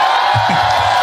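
A live audience at a literary museum anniversary event cheers and shouts for an encore, a dense roaring crowd with whoops and bellowing voices rising over a steady wash of noise throughout the brief moment.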